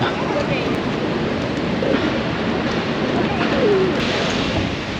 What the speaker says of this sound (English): hundreds of pigeons flying around you